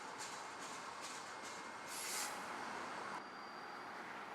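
CSX freight train 142, hauling Tropicana refrigerated reefer cars on the Chattanooga Subdivision, passes as a faint, steady rolling hiss and rumble, heard from a distance without any voices.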